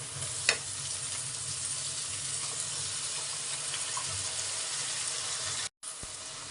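Ground masala goes into fried onions in a pan for green fried rice, giving a constant soft sizzle with an occasional clink of a spoon, close, with a brief dropout near the end.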